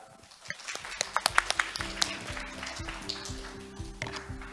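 Audience at a youth jobs and AI forum session in Jeju applauds, a burst of scattered claps over a sustained musical tone, fairly close and building briefly before thinning out.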